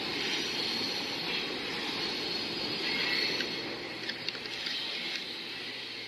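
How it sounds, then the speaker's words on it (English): A train passes right next to the tent area of a campground, a broad, steady rumble at moderate loudness that eases slightly near the end, with a few faint clanks and no talking. "That is the sound of the train"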